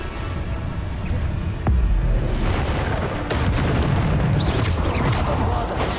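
Bombarda spell blasts in Hogwarts Legacy combat, a deep booming explosion around the middle followed by further rumbling bursts and crackling debris, loud and close with no talk.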